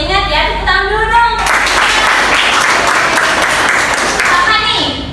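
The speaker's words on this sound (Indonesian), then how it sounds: "Tepuk tangan dulu dong." Pupils in a classroom clap their hands together in a loud, dense burst of applause that follows a teacher's spoken prompt and carries on for several seconds.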